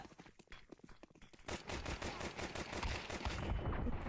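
Automatic gunfire in Counter-Strike 2, with rapid bursts building into a sustained, dense stream of shots nearby, probably mixed with footsteps and other game noise.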